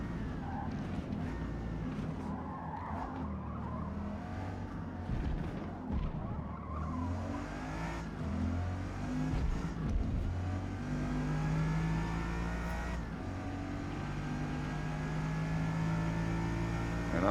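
Race car engines roar and rev at Le Mans in the Forza Motorsport video game, a Bugatti Veyron among R-class cars, with steady engine drone, shifting pitch and occasional tire squeal throughout.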